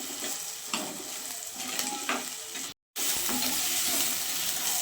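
Garlic and green chillies sauté in a pan for a sardine curry, a loud close sizzle with stirring scrapes and a brief dropout partway through, no voices heard.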